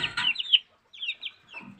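Young fighting-breed chicks cluck while pecking at protein-rich feed, two short bursts of close, chirpy clucking separated by a brief silence.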